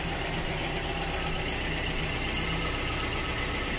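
Steady engine idle from a Mazda CX7 2.3L with the hood closed, a constant dense rumble with a light, faint ticking buried in it and no talk.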